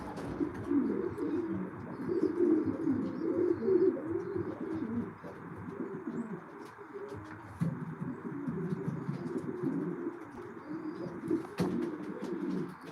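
Racing pigeons coo softly and continuously inside a loft, a layered low warbling murmur from many birds close by, with occasional faint ticks and rustles.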